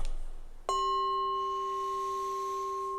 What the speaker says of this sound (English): I want to do the bell. It might be loud.